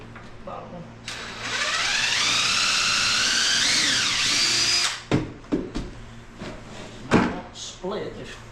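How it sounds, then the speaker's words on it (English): Power drill boring into the wooden corbel of an Adirondack chair, a loud steady whine that climbs briefly in pitch over about four seconds before stopping, followed by several short knocks and a voice talking. "And the drill so I can drill into the corbel."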